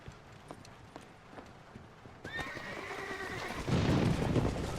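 A horse in the Red Dead Redemption video game moves with soft hoof clops, then lets out a loud whinny before breaking into a heavy, rumbling gallop.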